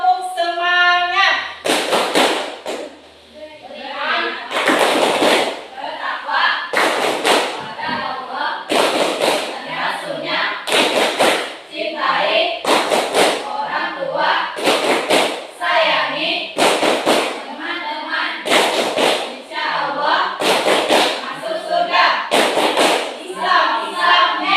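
An audience performs a rhythmic spirit clap at a school religious lesson, loud bursts of group clapping in repeated patterned volleys, with voices chanting along between the claps.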